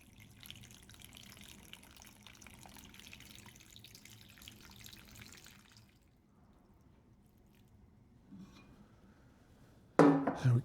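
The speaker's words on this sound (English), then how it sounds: "You know, maybe I'll just put the water in this now too." Water is poured from a container into plastic seed-starting trays during spring garden seed planting, a steady splashing trickle that fades near the middle, then a brief louder burst of pouring right at the end, close by with no talking.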